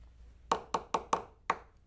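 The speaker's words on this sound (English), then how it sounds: "just knocking out any of that blue pigment" Five sharp taps of pastel paper being knocked to shake loose blue pastel pigment, landing in a quick, slightly uneven rhythm, close and fairly crisp against a quiet room.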